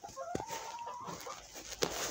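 A rooster clucks nearby with a drawn-out rising call and a few sharp bursts over about two seconds, heard alone without speech.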